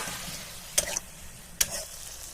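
Spice paste with chopped tomato frying in oil, a low steady sizzle punctuated by two bursts of spoon stirring and scraping against the pan, close up and without speech.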